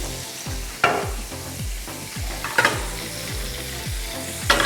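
Garlic sizzles and simmers in olive oil in a pan, a steady frying hiss with rhythmic scraping strokes of stirring and a few sharper clinks, heard up close with no voices.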